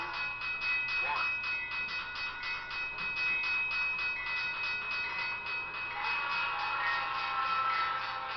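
An autorack freight train rolls past in the Trainz Simulator 12 game, with a steady rumbling, rattling drone of cars and a sustained whistle-like tone riding on top, continuous and fairly loud throughout.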